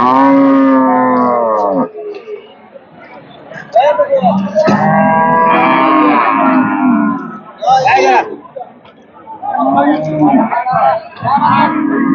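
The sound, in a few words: cows mooing at a cattle market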